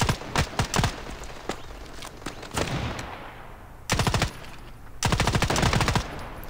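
Bursts of automatic gunfire in the mobile shooter Standoff 2, several rapid volleys with pauses between, the last two longer strings loud and close, with scattered single shots and footsteps early on.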